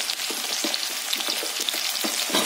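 Garlic and chilli sizzle in hot oil, a bright, hissing crackle heard up close with quick spattering pops and soft stirring, continuous and without talk.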